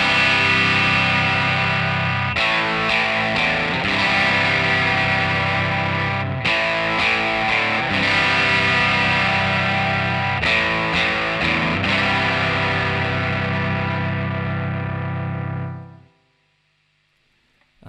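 Slow, heavy distorted electric guitar power chords from a song's outro ring out and change a few times, sustaining loudly before fading into near silence at the end.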